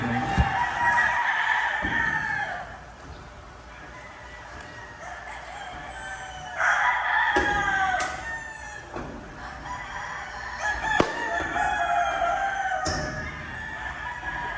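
Roosters crow repeatedly among gamecocks at a farm, loud and close, with several drawn-out cock-a-doodle-doo calls overlapping intermittent clucking and a sharp click or two.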